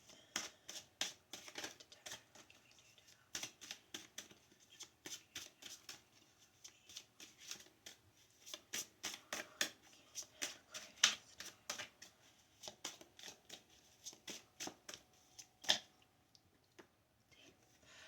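Tarot cards being shuffled in a long run of quick riffling bursts and crisp taps with short pauses between them, close and fairly faint, with no speech over them.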